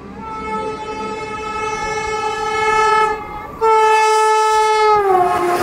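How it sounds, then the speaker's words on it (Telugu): The Secunderabad–Visakhapatnam Vande Bharat Express sounds its horn near the Yadadri station outer: a long, loud, harmonic blast, a brief gap, then a second, louder blast that drops in pitch at the end as the train rushes past close by. "సికింద్రాబాద్ విశాఖపట్నం వందే భారత్ ఎక్స్ప్రెస్, అదేనండి 16:00 వందే భారత్ ఎక్స్ప్రెస్."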